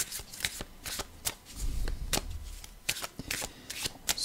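Tarot cards being shuffled by hand for a card reading, a run of crisp riffling and flicking bursts at close range with no talking.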